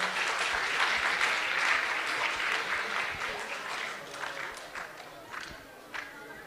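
A crowd at a commemoration ceremony for two republics and martyrs applauds warmly, with dense clapping that swells and then gradually thins out, plus a few louder claps near the end.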